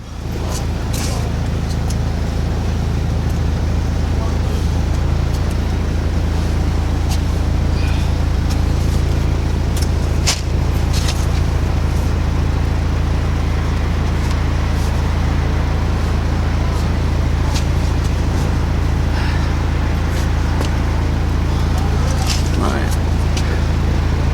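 A car cabin rumbles with steady low road and engine noise while driving, continuous and fairly loud, with occasional clicks and knocks, and voices talking over it.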